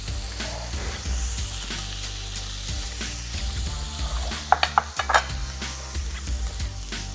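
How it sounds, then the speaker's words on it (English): Sirloin steak sears in a pan with a steady broad sizzle, joined by a few sharp clinks and scrapes of a utensil against the pan near the middle; no one speaks. "Once we finish searing up our steak"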